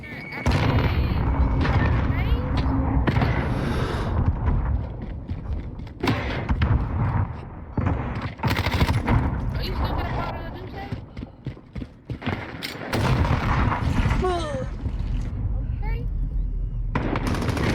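Call of Duty gameplay erupts with rapid, dense gunfire bursts and booming explosions, including a grenade blast, packed tightly together and loud throughout, with a voice talking over the action.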